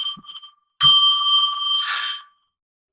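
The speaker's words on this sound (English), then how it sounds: "I'm now going to ring a bell 3 times to put us into sacred space" A small bell rung during a psychic radio broadcast to open a ritual gives one clear, resonant strike that rings for over a second. A faint tone comes before it, and another strike begins at the very end.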